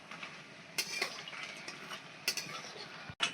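Mango crisps frying in a pan are stirred, with a steady low sizzle broken by a few sharp utensil scrapes and clinks against the pan, and a louder knock at the end; no one speaks.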